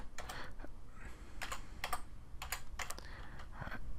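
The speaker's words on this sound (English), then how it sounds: "Let's just type in movement." Fingers type on a computer keyboard while filling in an online form, with a quick irregular run of close, crisp key clicks and no talk.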